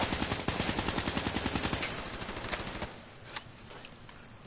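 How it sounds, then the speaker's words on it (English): Rapid automatic gunfire from a first-person shooter video game, a fast steady stream of shots for about two seconds, then sparser distant pops and scattered shots with no talking. "I was just shooting at nothing the whole time."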